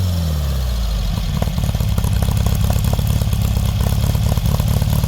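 A 1969 Baja Bug's air-cooled engine, just after its carburetor was loaded with fuel, runs loud and close with a steady rough clattering idle and a throaty, pulsing exhaust.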